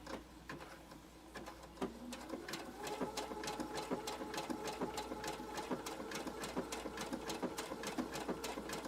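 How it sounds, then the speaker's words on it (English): A sewing machine stitches machine applique on a quilt block of Dresden plates, running in a steady rapid needle rhythm close up, with brief pauses near the start before settling into continuous stitching. "So I'm going to go ahead and stitch."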